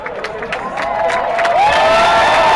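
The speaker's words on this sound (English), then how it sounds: "crowd applauding the effort." A Quidditch World Cup final crowd, University of Texas against Lone Star, cheers and applauds, building to a loud sustained roar with scattered whoops and shouts.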